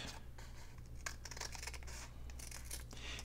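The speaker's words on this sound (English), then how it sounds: "let's try my little scissors" Small scissors snip through junk-mail paper in a series of quick, crisp cuts with short pauses between them, close and fairly quiet, with no voices.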